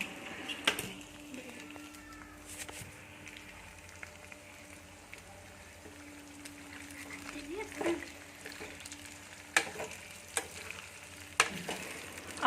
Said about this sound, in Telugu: ఆ తర్వాత మనం వేయించి పక్కన పెట్టుకున్న చికెన్ ముక్కలు దాంట్లోకి వేసుకోండి.